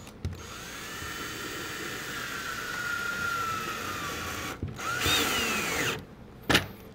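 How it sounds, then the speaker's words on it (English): A power drill drives a 2-inch screw into a pre-drilled hole in a wooden high deck chair, giving a steady whirring run with a brief pause and a short burst near the end. The sound is close and continuous, with no talking. "Take a 2-inch screw, put it here, and the hole should be pre-drilled for this."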